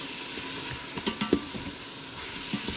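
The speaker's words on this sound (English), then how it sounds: "Y'all hear it sizzling?" Peppers sizzle and fry in a pan while being stirred, a steady close hiss with a few clinks and scrapes of the spoon against the pan.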